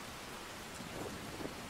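Steady rain pours outdoors in Resident Evil 7, a dense even hiss with faint low rumbles, heard alone without voices.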